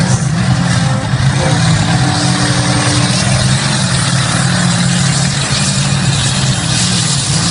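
The 2800-horsepower diesel pulling tractor Smoking Devil roars at a tractor pulling event in Edewecht, its engine a loud, continuous heavy drone that stays dense and unbroken throughout.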